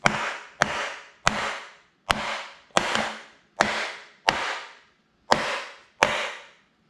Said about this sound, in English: Get your mallet and then pop it in place